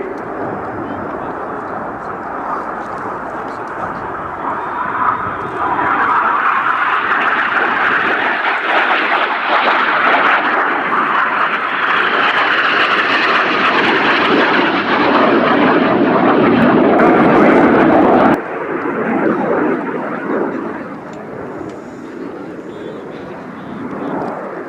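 Red Arrows jets fly in formation at the Royal International Air Tattoo, Fairford, producing a loud, sustained roar that builds and sweeps past before dropping off abruptly, with a commentator talking over it.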